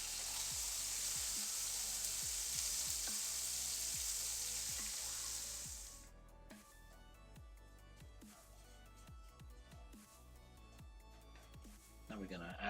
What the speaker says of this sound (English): You just place the tomatoes on hot oil and cook them for a couple of minutes.